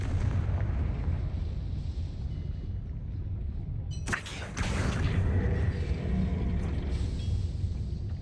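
Confringo fire spell going off in Hogwarts Legacy, a sharp blast burst after a steady low rumble, with a brief crackling tail fading back into the rumbling game ambience.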